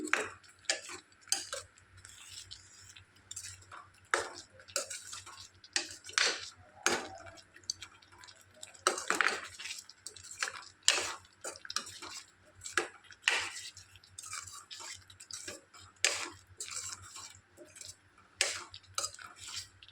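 A spoon stirs palak paneer in a pan, producing intermittent clinks and scrapes against the metal, spaced irregularly over a quiet background with soft wet mixing between strikes.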